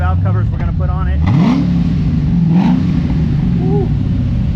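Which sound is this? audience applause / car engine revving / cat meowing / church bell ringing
car engine revving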